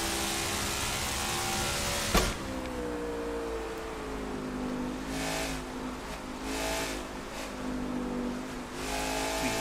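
Simulated NASCAR stock car engine at New Hampshire in the NASCAR 22 racing game, a steady loud drone with shifting pitch as the driver downshifts and eases back onto the throttle.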